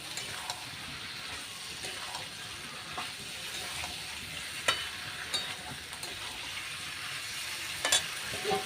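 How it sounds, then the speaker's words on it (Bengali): Fried potatoes and spices for aloo dum sauté softly in a pan, a faint low sizzle under several light, spaced scrapes of the stirring spoon. "এবার সব কিছু আমি ভালো করে একবারে কষিয়ে নেব।"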